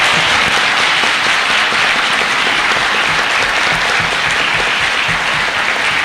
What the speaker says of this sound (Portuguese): Posso chiedere di fare un applauso ai 2 disegnatori di Tex